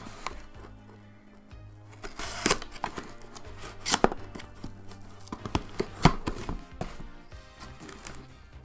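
A knife slicing through the tape and cardboard of a Sega Genesis Mini 2 box, giving scattered close scrapes, taps and tearing bursts with a steady low hum underneath.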